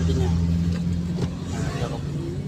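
A car's engine hums and rises as it pulls away during a driving lesson, with gear changes into third, a close steady drone under people talking inside the car.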